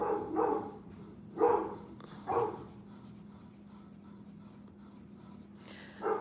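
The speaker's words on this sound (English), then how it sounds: "guys, the dog barking" A dog barks at a squirrel outside, a few loud bursts in the first few seconds, then quieter, over a steady low hum of indoor room tone.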